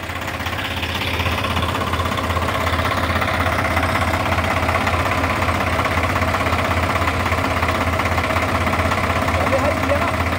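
A new Swaraj 855 tractor, only days old, runs with a steady, loud diesel rumble and knock that stays even for the whole stretch, with no voices over it.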